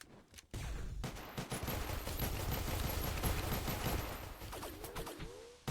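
Dense gunfire in the space station game SS14, with nuclear operatives trading shots against security: a sustained burst of rapid overlapping shots lasting several seconds, loud and continuous, with sharper single cracks at the start and end.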